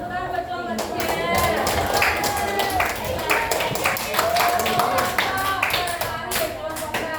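A roomful of sixth-grade madrasah pupils claps for a group in a classroom, a steady, dense patter of many hands running the whole time, with voices heard over it.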